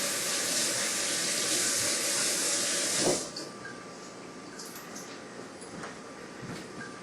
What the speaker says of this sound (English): After I wash my hands,